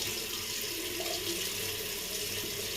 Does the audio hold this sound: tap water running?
yes